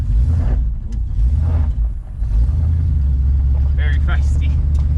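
A 1977 Chevrolet Nova with a Summit exhaust kit driving, its deep rumbling exhaust loud and steady inside the car, with people talking over it.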